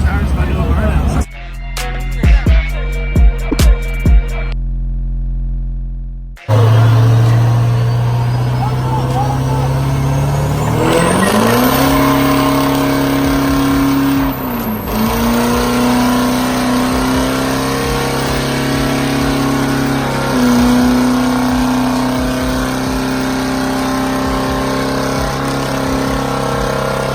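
A truck at Myrtle Beach Truck Week revs hard for a burnout, its loud, steady engine roar climbing and holding close by after a few short bursts and a brief pause, with faint voices beneath.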